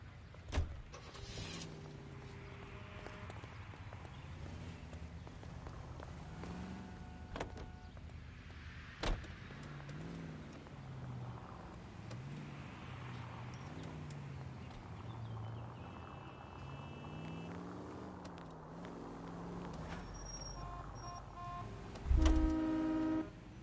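Commandeered car driving in the detective game L.A. Noire, a steady engine hum with gear shifts and rising and falling revs, door and window clunks, and a loud thump near the end.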